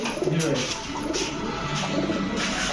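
Giribaz racer pigeons cooing in a loft, soft repeated throaty coos near at hand, steady over a low background, with a voice faintly present.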